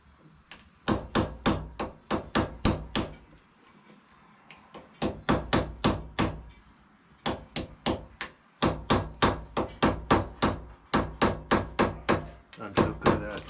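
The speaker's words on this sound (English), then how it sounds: "so it's going to be a claw hammer" Claw hammer striking a part on a Myford ML7 lathe to knock it out, rapid runs of loud sharp metallic blows in clusters separated by brief pauses, close and alone.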